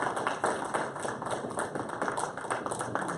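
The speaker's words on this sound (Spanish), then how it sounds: "Denle un fuerte aplauso a esta visita." Brief clapping in a church welcomes visitors during a Spanish-language service, a fairly quiet, even patter of many hands with a loosely rhythmic feel and no voices over it.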